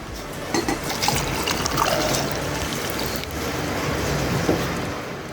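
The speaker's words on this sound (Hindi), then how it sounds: "अब इसमें हम खौलता हुआ फुल बॉयल गर्म पानी डाल देंगे" Boiling hot water poured into a pot, a steady liquid trickle and splash running throughout at close range, with no voices.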